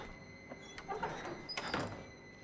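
Door pulled shut in the horror game Outlast, a faint sliding scrape and soft thuds over a low ambient hum, with no talking.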